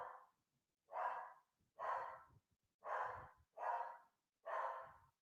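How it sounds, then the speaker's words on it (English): A dog barks six times in an evenly spaced run of loud, close, single woofs with breathy tails, recorded indoors at home with no talking. "As the dog barks."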